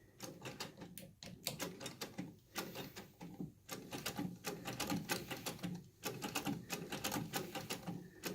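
A vintage Singer 66K treadle sewing machine in an original drawing-room cabinet runs steadily, its mechanism giving a dense, rapid clatter of ticking beats that carries on without a break. No one speaks while it runs.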